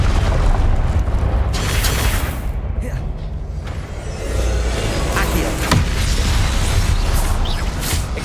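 Confringo blasting-spell explosions in Hogwarts Legacy combat: loud, dense booming bursts and crackling blasts rolling almost continuously, with brief dips between impacts and a voice faintly present under the clamor.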